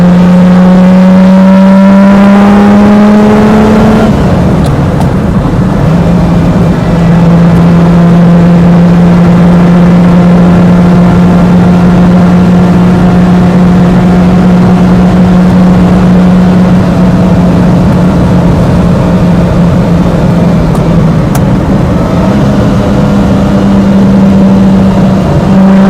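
Lamborghini Miura supercar heard from onboard on an open road, its engine loud and droning as it revs up, shifts and then holds a steady pitch, with no talking.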